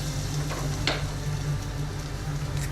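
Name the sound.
mustard seeds, fenugreek and curry leaves sizzling in coconut oil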